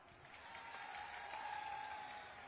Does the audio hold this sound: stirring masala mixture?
no